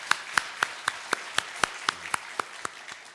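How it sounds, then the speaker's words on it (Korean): Church congregation clapping to welcome a newcomer during a worship service, heard as a steady run of sharp, evenly spaced claps, fairly soft and with no voices over them. "우리 박수로 환영하겠습니다."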